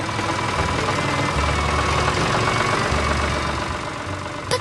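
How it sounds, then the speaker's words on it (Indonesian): A green tractor engine in a 3D farm animation rumbles at a steady idle, a loud continuous low mechanical drone with a slight knocking throb throughout. "Dan lihat, traktor hijau datang menjemput hasil panen."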